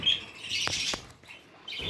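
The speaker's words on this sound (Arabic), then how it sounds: "عصافير مميزة، عصافير ألوان وأحجام وشغالة" Finches in a cage chirp in quick, bright bursts at close range, with two short sharp calls in the middle and a final flurry; the breeding pairs are of varied colours and sizes.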